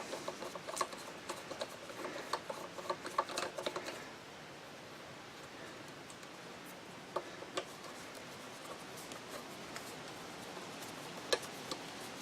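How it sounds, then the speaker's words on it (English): Scattered drips and light pattering of last night's rainwater knocked off trees by the wind, irregular and faint, busier at first then sparse taps against a quiet outdoor hiss. "It's actually just the wind knocking the rain we got last night off the trees"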